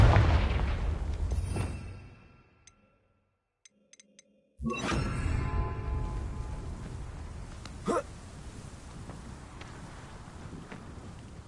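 Confringo blasting spell explosions in the Hogwarts Legacy video game: a loud rumbling burst, a near-silent gap with faint ticks, then another sudden heavy blast with a sharp crack partway through its long decaying roar.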